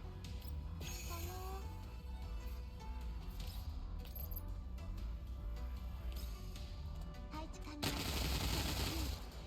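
Gunfire in the video game Girls' Frontline Exilium: rapid bursts of shots over continuous game music and effects, with one louder burst near the end.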